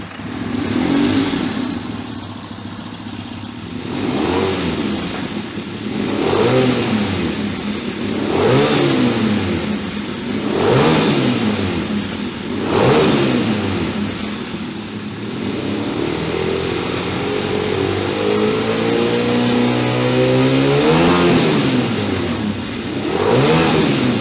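A Honda RC30 V4 race motorcycle fitted with an HRC exhaust revs loudly and repeatedly up close, about seven sharp blips spaced a few seconds apart, then settles into a longer, steadier rise in engine speed.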